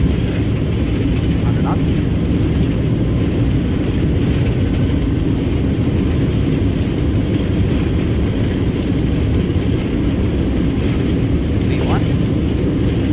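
Airbus A321 engines at takeoff thrust in Microsoft Flight Simulator give a loud, steady roar during the takeoff roll, and a voice briefly calls out over it.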